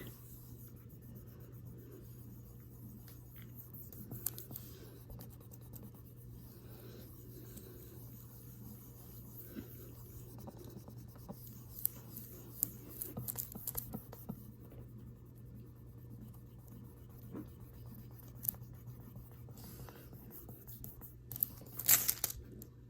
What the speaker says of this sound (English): back to burnishing